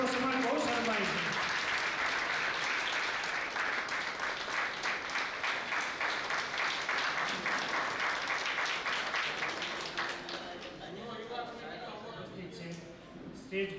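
A crowd at a Gujarati community felicitation ceremony claps as guests are welcomed on stage. Dense, sustained applause builds quickly and fades away near the end, with a voice speaking over a public address at the start and close.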